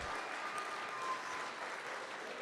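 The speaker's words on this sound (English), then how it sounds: "let's clap for that while Brett makes his way up front" Audience applause fills a room at a church series wrap-up event, steady dense clapping throughout at moderate level with no talk over it.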